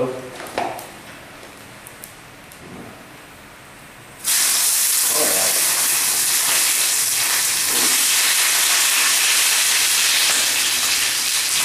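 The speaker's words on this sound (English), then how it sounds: "I can hear that oil starting to get real hot" Cooking oil heating in a surplus-store mess kit pan in a smoky garage: a quiet start with faint knocks, then a loud, steady sizzling hiss switches on abruptly and continues to the end.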